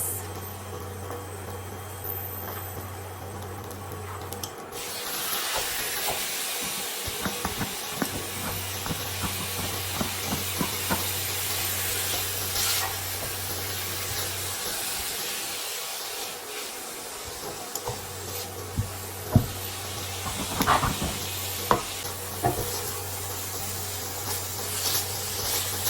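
Pork mince sizzles and hisses in a pan on an induction cooktop, a steady close spitting fry with scattered pops and crackles and a low hum underneath.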